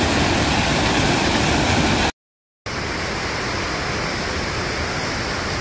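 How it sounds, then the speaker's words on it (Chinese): A waterfall in a mountain gully gives a loud, steady, close roar of rushing water that cuts out briefly before resuming just as strong. "这才是正儿八经沟里面的瀑布"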